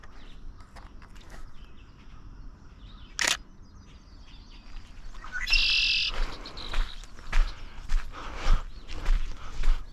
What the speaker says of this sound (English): Some red-winged blackbirds.